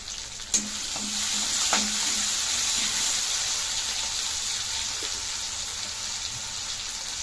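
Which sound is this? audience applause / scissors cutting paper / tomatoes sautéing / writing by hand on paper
tomatoes sautéing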